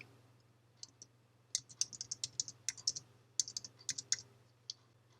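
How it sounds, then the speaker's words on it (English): Keys on a computer keyboard clack in quick irregular bursts of light taps, close and fairly quiet, over a faint steady low hum with no one speaking. "Then just type some text."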